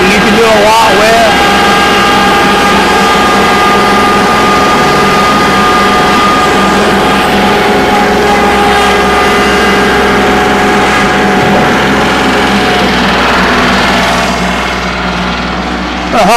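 A Kubota L3902HST compact tractor's diesel engine runs steadily in high range, a loud constant drone with strong harmonic tones that holds throughout, easing off slightly near the end.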